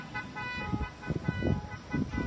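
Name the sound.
car horn honking repeatedly on a street in Vietnam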